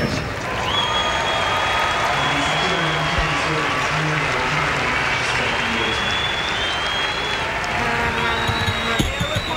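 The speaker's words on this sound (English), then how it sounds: "Applause for Gary Kirsten's highest score in Test match cricket." Cricket crowd at a Test match between South Africa and England applauding Gary Kirsten's highest Test score, a broad, steady ripple of clapping from a distant stadium crowd, with faint scattered voices and a brief commentator-like murmur beneath.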